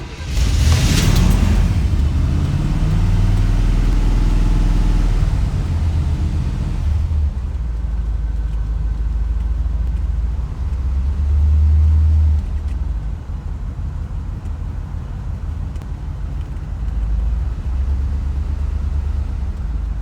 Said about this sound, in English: I cannot wait to get this car started up.